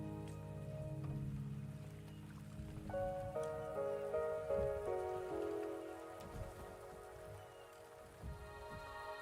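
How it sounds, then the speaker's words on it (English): Steady rain pattering on surfaces in the video game Wuthering Waves, a continuous soft wash heard alone while gentle musical tones rise midway through. "The rain is subsiding,"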